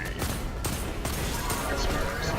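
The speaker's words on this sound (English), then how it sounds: "And I'll do a rocket and a grenade" Rocket and grenade explosions in Destiny 2 during a solo Nightfall boss fight, heard as a dense, continuous barrage of blasts and gunfire that stays loud throughout.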